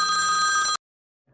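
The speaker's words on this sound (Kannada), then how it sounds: "Phone receive ಮಾಡಿಪ್ಪ." A telephone rings in a steady electronic trill in a domestic drama scene, loud and close, then cuts off abruptly after under a second, leaving silence.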